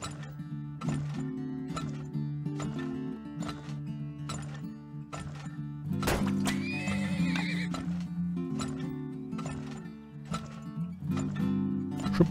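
Horses in the video game Turmoil neigh and whinny repeatedly over the clip-clop of hooves, with loud, close calls recurring throughout and a long, rising whinny near the middle.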